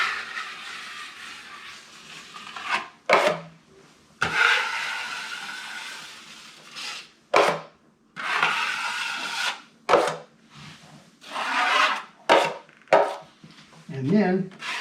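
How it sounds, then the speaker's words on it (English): A drywall knife spreads joint compound over paper tape on a wall crack, giving repeated scraping, smearing strokes in bursts of a second or two separated by short pauses, close and fairly loud. "I'm just putting the mud now over the tape to get a coat of mud on it."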